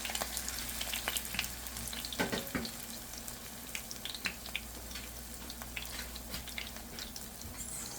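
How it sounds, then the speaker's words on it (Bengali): Greens such as jogini flower and mint leaves dipped in gram-flour batter fry slowly in a little oil, a quiet, steady sizzle with faint crackles and a few light utensil taps. "যে কোনো শাক আপনারা এরকম বেসনে চুবিয়ে ভেজে নিতে পারেন"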